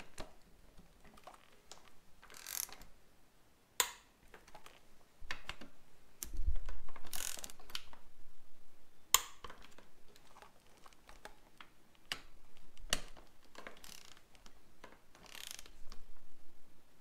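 Torque wrench tightening a car's intake pipe to 19 Nm, a run of sharp ratcheting clicks and metallic taps spread unevenly among quieter handling noises, close and fairly faint.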